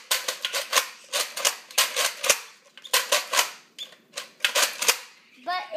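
Rapid gunfire from a recon gun in a video game, with loud, sharp cracking shots fired in quick bursts separated by short pauses.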